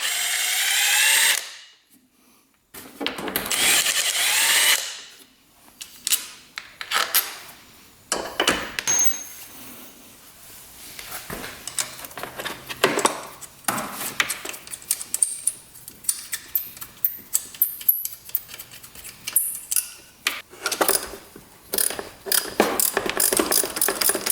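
A power tool rattles in repeated short bursts as bolts are backed out of a free, neglected scooter, with quieter clicks and handling noises between the runs.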